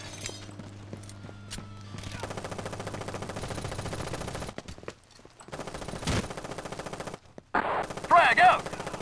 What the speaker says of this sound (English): I have to use my MP5K with a